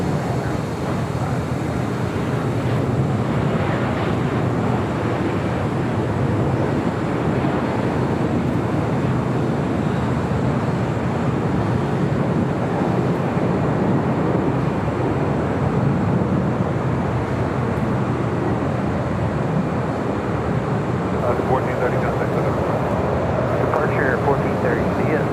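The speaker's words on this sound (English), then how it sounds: "We got that Dreamliner now short final for 24 right" A Boeing 787 Dreamliner flies short final for runway 24 right at Los Angeles airport. A continuous broadband engine rush holds steady throughout, with voices talking over it.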